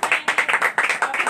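Applause from a crowd at a women's Christian meeting in Rehman Colony, with dense, steady hand clapping that keeps going strong and close throughout the short burst.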